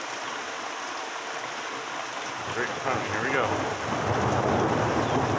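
Steady rain patters and hisses close by during a storm with lightning in Guelph, growing louder midway, while someone speaks briefly over it.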